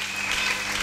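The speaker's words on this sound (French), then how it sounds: "Acclamons très fort pour le roi" Applause from a church congregation during a Sunday service, a dense, steady wash of clapping hands filling the room, fairly loud and continuous throughout the brief moment with no talk over it.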